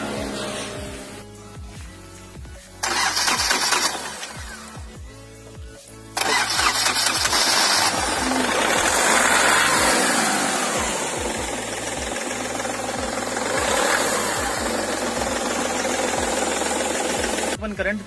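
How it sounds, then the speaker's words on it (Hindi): A car with a discharged battery, jump-started from another vehicle, cranks with a rapid, rhythmic whirring from its self-starter for several seconds, then catches and settles into a loud, steady idle. "चलिए अब मैं सेल्फ मार के देखता हूँ।"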